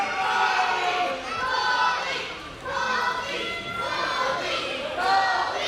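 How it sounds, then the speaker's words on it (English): Crowd at an independent pro wrestling show cheering during a two-out-of-three falls match, rising and falling waves of shouting and chanting voices, loud and close, with a commentator talking over them. "As the crowd really trying to cheer on Colby Corino."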